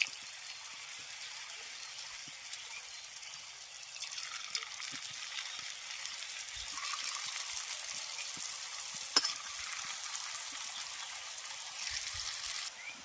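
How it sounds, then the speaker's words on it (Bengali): Potato ring snacks dropped into hot oil in a kadai wok give a steady, bright frying hiss that swells slightly around the midpoint, with a few faint clicks and no talking. "এবার এই গরম তেলের মধ্যে এগুলোকে দিয়ে দেবো"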